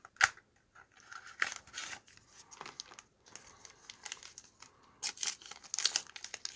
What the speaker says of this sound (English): Let's open this next box